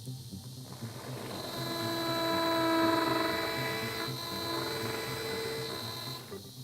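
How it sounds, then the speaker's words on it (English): A 3 mm surgical drill bores into medium-density bone, giving a steady high whine that swells in the middle of the cut and then eases, with no one speaking. "This is the 3 mm diameter drill, used for the median bone in this example case."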